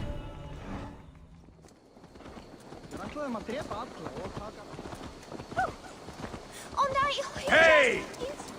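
Horse hooves clip-clop at a steady walking pace in the game Assassin's Creed Valhalla, close and moderately loud beneath characters talking, with a whinny near the end.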